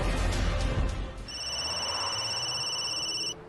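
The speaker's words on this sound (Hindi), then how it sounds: "मॉम का फोन" A telephone rings with steady electronic trilling tones, clear and close, starting after a moment of low rumbling background noise.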